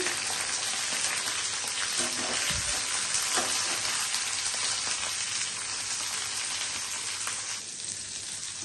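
Capsicum fries with onions in a pan, giving a loud, continuous close-up sizzle with a few brief stirring scrapes that eases slightly near the end.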